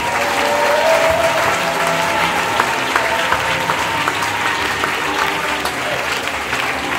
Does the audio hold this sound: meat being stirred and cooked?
no